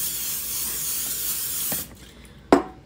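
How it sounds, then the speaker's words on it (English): Olive oil from a spray can misting into a mixing bowl, heard as a continuous close hiss of about two seconds, followed by a couple of short knocks. "I'm going to spray it with a little bit of olive oil"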